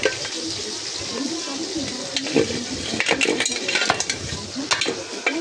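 A small child playing with pots, lids and mugs at home, giving irregular clatter, scraping and light metallic knocks close by, with faint voices in the background.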